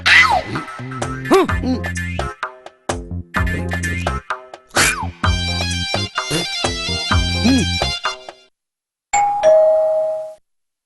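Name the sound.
doorbell ringing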